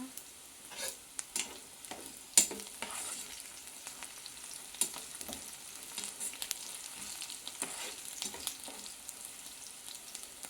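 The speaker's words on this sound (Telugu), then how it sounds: "ఉల్లిపాయలు వేగుతున్నాయి ఇక్కడ" Onions frying in a pan give a steady low sizzle with scattered crackles, and occasional sharper stirring scrapes break through the hiss. No voices are heard.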